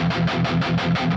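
An electric guitar plays through an underdog CHUCK tube amp on its metal preset, heavily distorted, chugging in tight, even palm-muted pulses, loud and close with no voices.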